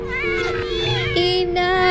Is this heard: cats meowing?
yes